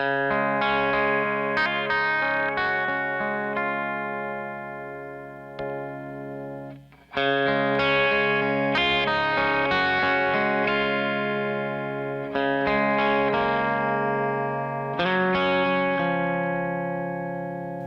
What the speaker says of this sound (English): This is my Jazzmaster.